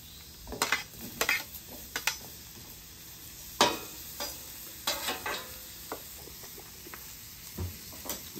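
Mushrooms frying in a skillet over leftover browned fond and seasonings for a breakfast stir fry: a soft, constant hiss broken by sharp utensil clicks and scrapes against the pan, moderately quiet and near.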